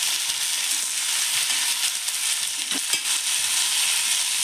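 Green peas are stirred into a frying potato curry, a continuous bright sizzle with occasional scraping and knocking of a spoon in the pan, close and steady with no talking.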